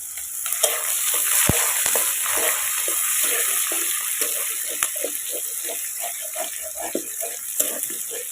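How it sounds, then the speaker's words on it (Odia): Onions frying in a pan over a clay stove while making a mushroom curry, a steady close sizzle with scattered stirring scrapes and clinks running throughout without talk. "ପିଆଜ ଟିକେ ନାଲ ହବା ଯାଏଁ ଟିକେ ଭଜା ହବ"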